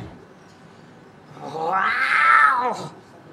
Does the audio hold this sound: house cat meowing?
yes